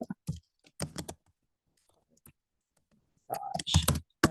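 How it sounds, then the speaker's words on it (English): Keys being tapped on a computer keyboard in short clustered bursts, with gaps of near silence between them, fairly close and moderately quiet. "I'm just going to type in"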